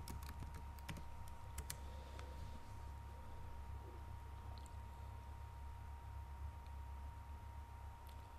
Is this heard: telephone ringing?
no